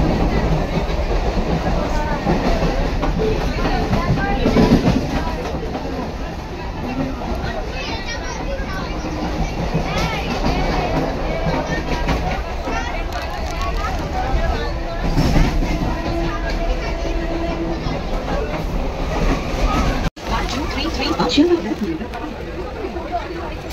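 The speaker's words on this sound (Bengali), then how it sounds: "ট্রেনটা দেখতেই পাচ্ছ, ভিড়, দমদমে ভিড় ছিল।" A crowded Dankuni local commuter train runs, heard from inside the carriage as a continuous loud rumble and rattle with voices murmuring underneath throughout.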